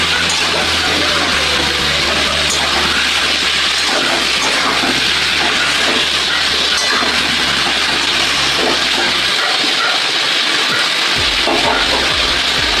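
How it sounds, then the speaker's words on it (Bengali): Potatoes frying in a pan with salt and turmeric for a chicken curry, a steady broad sizzle and crackle running throughout at close range, dipping briefly near the end. "আলুটা একটু ভাজা ভাজাও হয়ে যাবে।"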